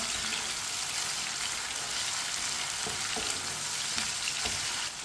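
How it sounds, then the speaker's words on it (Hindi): Tomatoes frying in a pan for rajma give a steady, dense sizzle close by, with a few soft stirring knocks near the end and no talking. "टमाटर को मिक्स करके 2 मिनट के लिए पका लेंगे।"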